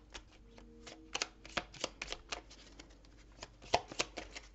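Tarot cards shuffled close up for a reading, a quick series of crisp riffling snaps and soft flutters in irregular bursts, quiet and alone with no talking.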